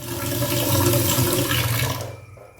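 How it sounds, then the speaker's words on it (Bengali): Water runs steadily from a tap as leaves are washed, a loud continuous rushing splash close by that cuts off abruptly near the end. "এবার পাতাগুলো আমি ভালো করে ধুয়ে নেব ওখানে"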